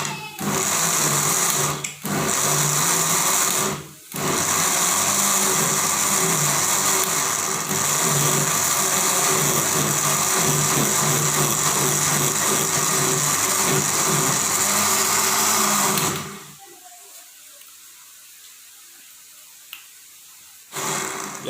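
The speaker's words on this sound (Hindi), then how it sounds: "तो अब मैं इसको निकाल के ग्राइंडर मशीन में डालने लगा हूँ।" An electric grinder loudly whirs as it blends softened onions, running steadily for about sixteen seconds with two short pauses near the start, then stopping into near silence and briefly starting again at the end.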